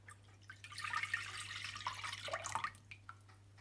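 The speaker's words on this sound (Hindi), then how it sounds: "सबसे पहले आप ऑरेंज जूस डाल लें।" Orange juice poured into a pot for making orange marmalade, a soft, continuous liquid splash lasting a few seconds, close and fairly quiet over a low steady hum.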